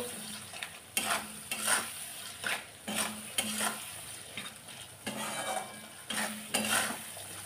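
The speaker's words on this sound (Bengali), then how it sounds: "টমেটো দিয়ে কিছুক্ষণ ভেজে নেব।" Chopped tomato frying in a pan, a steady sizzle broken by repeated spatula stirs and scrapes against the metal at a regular pace, close and fairly loud, with no talk.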